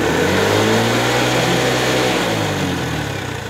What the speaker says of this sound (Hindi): ये देखिए आप स्टार्ट देंगे हम ये देखिए फुल रेस